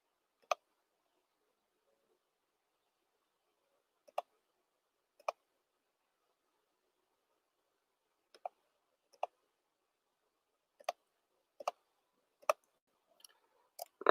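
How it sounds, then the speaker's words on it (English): Sharp computer mouse clicks, about a dozen isolated taps spread across the stretch, quiet and close, growing more frequent toward the end with no talking. "I will click on over here real quick"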